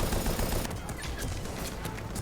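Gunfire in Mass Effect 3 Legendary Edition, a dense burst of rapid automatic shots and crackling fire filling the whole short moment, loud and continuous.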